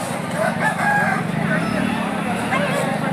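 Roosters crow and chickens cluck at a busy Saturday poultry market in Akki Rampura, Tumkur district, amid a steady crowd murmur with people talking nearby.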